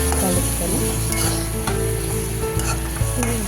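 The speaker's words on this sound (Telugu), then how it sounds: "బాగా ఫ్రై అయినాక కాకరకాయ ముక్కలు అందులో వేసుకోవాలి. ఇంట్లో వేసుకుని ఇలా కలుపుకోవాలి." Bitter gourd pieces sizzle steadily in a hot pan while being stirred, a continuous close frying hiss with soft scraping and clinks of the stirring spoon, no talking.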